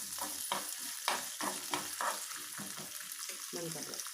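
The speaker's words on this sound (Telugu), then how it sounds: "కిస్మిస్, ఇంకా కొబ్బరి, ఈ 3 కూడా వేసి ఫ్రై చేసుకోవాలి." Raisins and coconut frying in a pan for sweet rice, a soft sizzle under repeated stirring strokes, with a faint voice underneath throughout.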